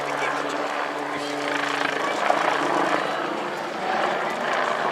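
A VIP transport aircraft based at Northolt flies a display at the RAF Cosford Airshow 2018, a steady close engine drone with a faint hum beneath, while a commentator talks over it.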